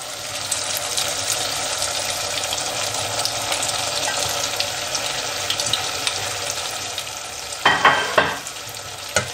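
Spicy masala for bhindi is stirred in a pan, a close scraping sizzle running steadily, then a brief burst of splashing, rattling clatter near the end.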